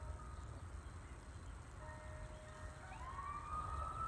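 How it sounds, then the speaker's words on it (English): A distant siren rises and wails faintly over low ambient rumble along an abandoned road at former Nike missile barracks, growing more prominent toward the end. "And a siren."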